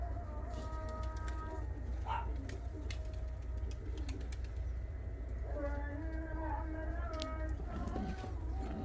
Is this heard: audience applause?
no